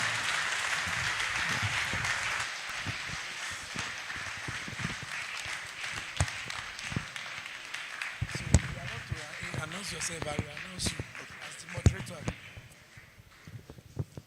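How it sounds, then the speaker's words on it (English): A conference audience applauds in a standing ovation for a health-insurance agency director general, broad steady clapping filling the room for most of the stretch, thinning with scattered claps and shuffling toward the end. "a round of applause, standing ovation for the DG NHIA"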